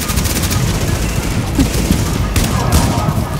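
Rapid gunfire in The Division's Dragon's Nest incursion, a dense steady rattle of shots running through the whole stretch, with a player talking faintly in the mix.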